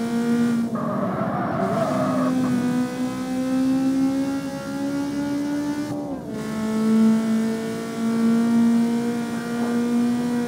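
Car in the racing game CarX Street accelerating hard, a loud, close engine whine climbing through the revs, dropping briefly at a gear shift and rising again, steady and dominant with no talking.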